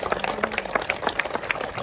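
Audience applause at Dr Tushar Patil's felicitation ceremony, hosted with the Bhusawal Sports and Runners Association: steady, dense clapping from a crowd, moderately loud and continuous throughout.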